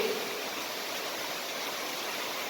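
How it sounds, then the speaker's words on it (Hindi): Waterfalls flow in a steady, even rush of water with no breaks, heard at moderate level with no voices. "झरने"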